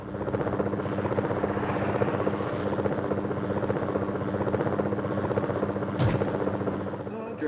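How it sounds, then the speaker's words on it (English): A helicopter's steady rotor drone and engine roar in Need for Speed: High Stakes fill the whole stretch, loud and continuous, with a brief sharp crack near the end. "I'm just abusing this helicopter, man."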